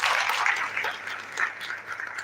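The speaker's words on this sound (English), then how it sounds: "Can we give him another round of applause?" Applause from a seated audience at a university contest ceremony, a short burst of dense clapping that stays loud and close before fading slightly.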